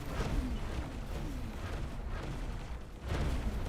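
Explosions in the space game X4 Foundations rumble in loud, continuous booming bursts, with a heavier blast near the end.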